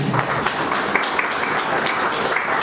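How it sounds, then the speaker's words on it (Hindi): An audience at a cultural stage programme claps together, a moderately quiet, steady patter of many hands that holds evenly through the short stretch, with no talking over it. "एक बार अपने लिए बहुत जोरदार तालियां बजा दीजिए।"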